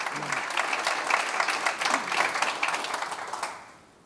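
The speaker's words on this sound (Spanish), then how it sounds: "Un aplauso." A conference audience at a political summit panel on free speech applauds steadily, a dense wash of many hands clapping that stays loud throughout before fading out at the very end.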